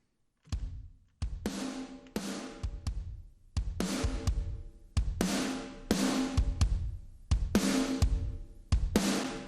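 A hyper-compressed drum bus plays back with all the drum shell tracks crushed together through saturation: punchy, dense kick and snare hits in a steady rhythm, loud and up-front with long, squashed sustain.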